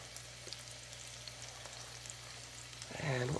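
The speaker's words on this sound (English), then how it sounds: "And we're going to saute some of the white parts of 3 scallions, green onions." White parts of scallions sauté in butter in a pan, giving a quiet, steady sizzle. A brief voice sound rises at the very end.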